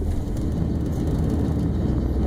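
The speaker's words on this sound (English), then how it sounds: "Sorry about all that noise, but the truck's old." An old truck's engine rumbles up close in the cold, a steady low, dense drone with no breaks.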